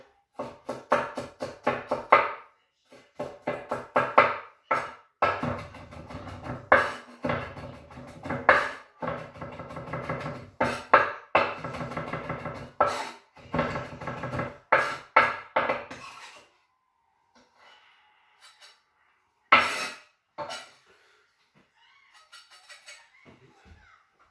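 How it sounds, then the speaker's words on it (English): Rough knife chopping of ginger and other ingredients for Thai minced pork, a fast run of sharp, uneven chops on a board that stops abruptly, followed by a few isolated knocks. "Give it a rough chop."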